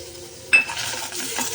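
Country tomatoes roast in a pan: after a quiet moment, a sudden hiss of sizzling bursts in and settles into a soft, close crackle with a light stir near the end.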